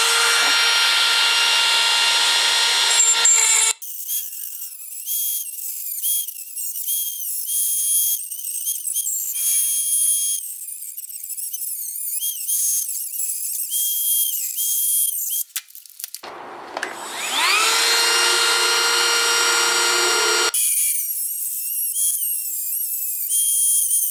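A high-pitched power tool whines steadily as it cuts a small section out for a servo in a walker robot build, pausing and restarting several times, loud and close.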